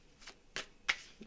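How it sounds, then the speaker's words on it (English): Playing cards are shuffled in a few quick, soft riffling bursts, faint and close, with no voices. "I feel like I have to shuffle some more"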